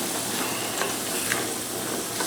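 Meatless ground beef sizzles and crackles steadily in hot olive oil in a saucepan, a close, even frying hiss with a few stirring scrapes and no voices.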